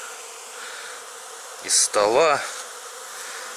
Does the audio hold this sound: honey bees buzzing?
yes